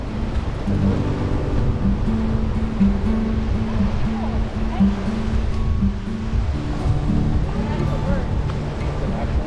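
Ocean surf rolls steadily onto Bellows Field Beach on Oahu, Hawaii, a continuous washing roar with a low droning hum running beneath it and voices in the background.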